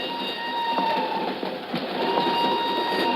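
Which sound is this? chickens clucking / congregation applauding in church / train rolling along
train rolling along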